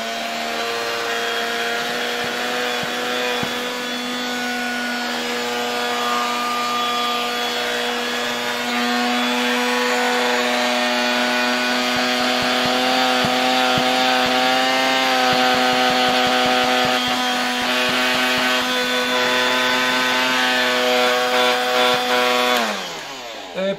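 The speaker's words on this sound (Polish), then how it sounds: "Włączam zasilanie i włączam w takim razie nasz odkurzacz." A 1968 Kembric car vacuum cleaner from the USA running steadily with a loud, whining motor drone and strong tonal hum. The drone winds down abruptly at the end.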